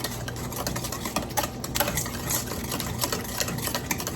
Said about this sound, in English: Whisk that together.